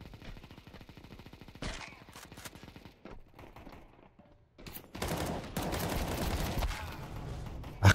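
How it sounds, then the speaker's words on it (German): Gunfire in the video game Counter-Strike 2: bursts of rapid shots and a dense volley of firing in the later half, mixed with a player's voice speaking over the game. "da wurde ja von allen Seiten um mich geballert"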